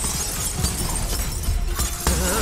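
A crystal smashes in the Skylanders: SWAP Force video game, a sharp shattering burst among busy game music and effects, with a second crash near the end.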